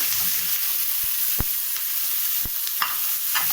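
Onion frying in a pot gives a steady, close sizzle with a few sharp stirring clicks against the metal, and no voices.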